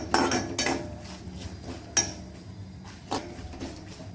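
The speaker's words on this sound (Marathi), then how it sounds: "आपण आता त्यामध्ये 1 चमचा खसखस टाकूया व ती चांगली परतून घेऊया" Poppy seeds are stirred and roasted in a pan with cashews and almonds for modak, a spoon clinking and scraping against the metal in a few sharp knocks between soft rustling.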